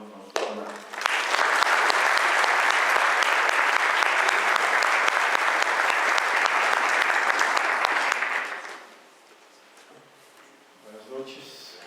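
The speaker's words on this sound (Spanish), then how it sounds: "les invito a que recibamos con un aplauso al hermano Alfonso." An audience at a theology lecture bursts into loud, sustained clapping for about seven seconds, then it fades away and a voice begins speaking quietly.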